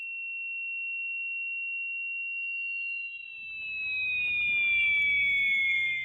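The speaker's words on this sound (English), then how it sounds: "You hear this high-pitched sound, which is basically your ears shutting down for a while." A steady high-pitched ringing tone holds alone for a few seconds, then wavers and bends lower as a low rumbling noise rises beneath it.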